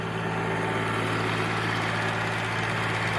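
A tractor's power take-off spins a centrifugal water pump drawing from a small river, giving a steady, continuous mechanical drone with a low engine hum that holds even throughout, close and moderately loud, with no talk over it.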